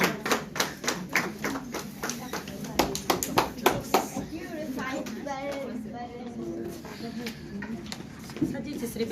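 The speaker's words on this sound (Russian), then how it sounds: "и похлопаем нашим ребятам" Audience applause for children at a school event in Oslo, a burst of uneven clapping for about four seconds that gives way to room murmur and a voice talking.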